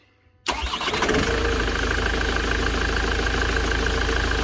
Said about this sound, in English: Turn the ignition on. Okay, start it.